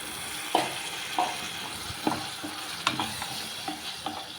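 Chicken liver fries in a pan, a continuous close hiss broken by regular spoon scrapes and taps roughly every half second to second as it is stirred, moderately loud, no speech.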